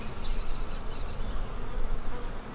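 Dense, steady buzzing of many honeybees during a hive inspection in a bee barn, continuous and close with no voices.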